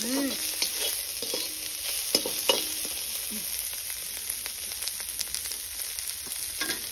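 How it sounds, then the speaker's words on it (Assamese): Pieces of fish fry in a pan with a steady, close sizzle, while repeated scraping and stirring clicks cut through the hiss. "মাছখিনি অকণমান ধুনীয়াকৈ ভাজি লোৱা"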